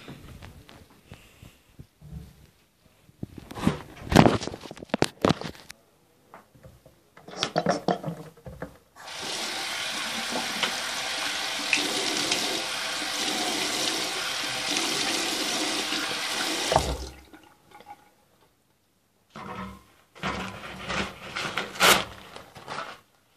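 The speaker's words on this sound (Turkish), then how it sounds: "şimdi elimi yüzümü yıkayacağım" Tap water runs steadily for several seconds as hands and face are washed, framed by shorter splashes, rubbing and light clatter before and after, with no speech.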